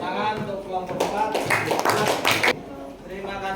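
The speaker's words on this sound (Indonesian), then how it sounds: "Beri tepuk tangan untuk kelompok 4." Students in a junior high school coding and AI training class clap for a group's presentation in a short, lively burst that fades out, with voices talking around it.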